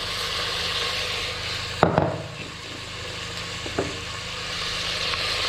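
Onion pieces dropped into a hot pan with ginger and garlic for desi chicken yakhni give a soft, steady sizzle, with a couple of brief clatters and stirring knocks. No one is talking.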